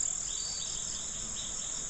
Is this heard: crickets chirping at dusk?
yes